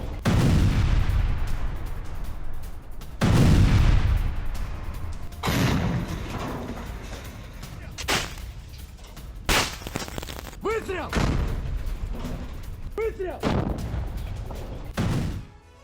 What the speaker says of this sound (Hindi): होवित्जर तोप से यूक्रेनी ठिकानों पर गोले दागे गए।